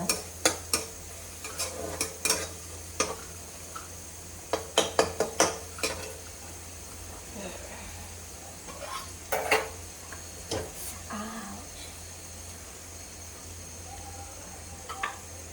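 A spoon stirs and scrapes a spice mixture in a home cooking pan with irregular clinks and knocks against the metal, over a soft low sizzle, fairly close, with no talk.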